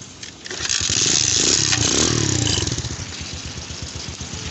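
A motorcycle built from scrap parts starts up and runs, its engine catching after a brief crank and settling into a rough, close, steady putter with rapid firing pulses.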